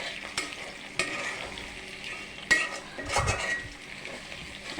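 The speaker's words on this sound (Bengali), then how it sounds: "তারপর পেঁয়াজ ছেড়েছি, তারপর তেজপাতা, দারচিনি, এলাচ এগুলো দিয়ে দিলাম, দিয়ে পেঁয়াজটা ভেজে নিচ্ছি" Onion fries in oil with bay leaf, cinnamon and cardamom for an Assamese beef and gourd dish, a steady sizzle broken by scraping stirs and the clink of a utensil against the pan, close by with no talk.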